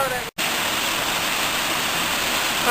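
A river rushes over a weir at a mill, its waves forming a loud, dense, continuous roar heard close up, broken only by a split-second dropout near the start.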